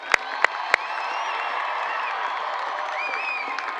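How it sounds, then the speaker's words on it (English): A large crowd at a university commencement ceremony cheers in a broad, steady roar of voices and applause, with a few sharp whistles or claps standing out at the start. "how about a big cheer?"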